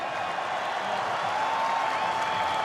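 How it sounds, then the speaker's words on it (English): A stadium crowd in Auckland cheers and applauds after an Auckland FC A-League win over Sydney FC, a broad, steady roar with clapping and scattered whistles, sustained throughout. "I'll let the crowd cheer for you."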